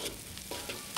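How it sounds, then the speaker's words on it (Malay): Garlic and shallots sautéing in hot oil give a steady, close sizzle, broken by a few brief scraping stirs and no talk. "Tumis bawang putih dengan bawang merah ni"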